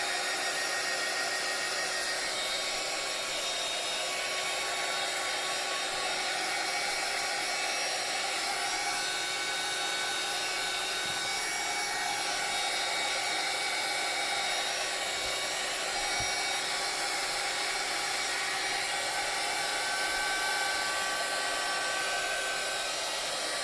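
Steady, loud whooshing of a handheld blower drying glue along the edges of a junk journal cover, a constant close airflow that runs unbroken the whole time with no talking.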